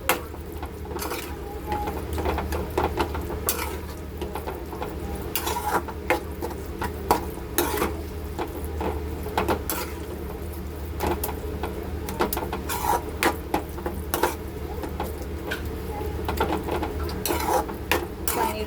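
Paneer bhurji being stirred in a pan, a steady run of scraping and tapping clicks over a continuous low background hum, with no voices.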